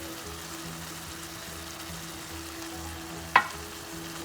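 Keema mince fries with a soft steady sizzle in the pan, and a single sharp clatter near the end as tomato puree goes in.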